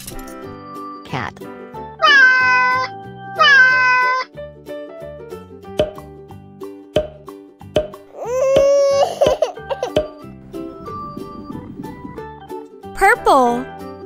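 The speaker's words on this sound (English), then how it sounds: "Cat." A cat meows clearly several times: two drawn-out meows close together, then a few shorter ones, all over a steady musical background.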